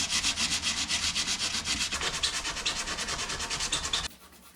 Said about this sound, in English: Got a new sanding sponge.